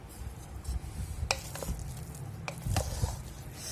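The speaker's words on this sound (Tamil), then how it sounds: "நெய் சேர்த்து மிக்ஸ் பண்ணிக்கலாம்." Ghee being stirred into a banana flower biryani, with soft squishy mixing and a few sharp spoon clinks against the pot, close and quiet, no voices.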